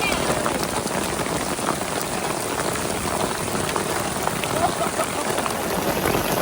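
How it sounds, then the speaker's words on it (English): Heavy rain pours down in Vietnam as a dense, unbroken hiss of drops striking surfaces, steady and loud for the whole stretch with no clear voices. "Big old fat rain, little bitty rain."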